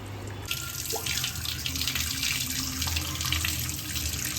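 Water pours steadily into a metal pressure cooker for gongura chicken curry, a continuous splashing gush with a few clinks, close and fairly loud.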